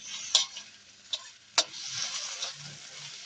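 Tomatoes going into a frying pan of sautéed bitter gourd, with a few sharp clinks of utensil against the pan over a soft, steady sizzle.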